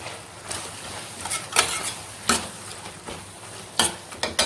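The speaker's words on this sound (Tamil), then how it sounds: "இப்போ இது கூட கொஞ்சம் கொத்தமல்லி தழை சேர்த்து வதக்கிக்கிறணும்." Goat intestine and coriander leaves being stirred in a pan, with bursts of utensil scraping and clatter over a low sizzle, loud and close.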